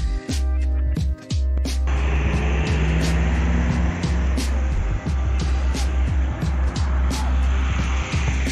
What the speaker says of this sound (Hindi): गाड़ी आहिस्ता आहिस्ता उतर रही है।